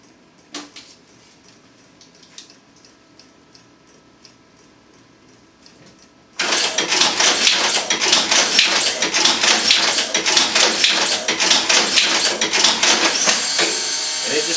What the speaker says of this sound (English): it just straps down until the accumulator is empty